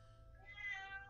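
A cat gives a single short, faint meow, rising briefly over a quiet background.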